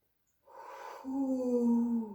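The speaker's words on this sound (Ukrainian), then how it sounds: "Робимо вдих носиком, животиком." A single slow inhale through the nose during a breathing exercise, close and quiet after a short silence, rising into a soft whistling draw that lasts over a second and a half.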